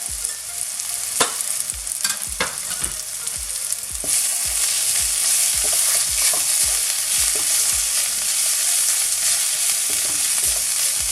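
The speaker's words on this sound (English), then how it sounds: "So I'm just going to give it a good mix so the spice and the onions" Onions and spices (turmeric, coriander, chili powder) frying in oil, a spatula scraping the pan in repeated strokes over a continuous loud sizzle, close by, no talking.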